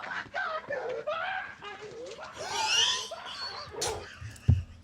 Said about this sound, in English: What am I hearing? Oh, it's a dog.